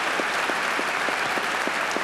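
Audience applauding schoolchildren at a Hall of Fame ceremony, a steady dense wash of clapping from a crowd, moderately loud, with no talk over it.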